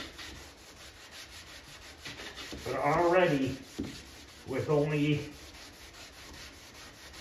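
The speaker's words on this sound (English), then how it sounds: "So I'm gonna get these sanded now." Primer is sanded on a wooden Paperboy arcade cabinet, two close rasping bursts of sanding with quiet pauses around them, and a voice speaking briefly under the noise.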